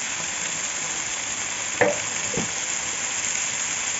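Chicken breast seasoned with salt and turmeric sizzles softly and steadily in a pan, with a couple of brief utensil scrapes near the middle and no speech.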